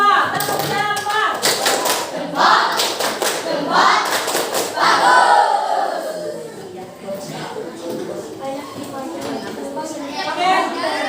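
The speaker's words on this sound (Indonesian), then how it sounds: "Kasih tepukan tepuk jempol. Tepuk jempol." A class does a thumb-clap routine, with bursts of rhythmic clapping and tapping mixed with children's chatter and voices, loud and close, fading into quieter talk.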